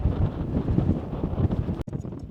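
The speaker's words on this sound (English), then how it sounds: "It's getting pretty windy." Wind on a mountain summit buffeting the microphone in low rumbling gusts, with a brief sharp crackle near the end.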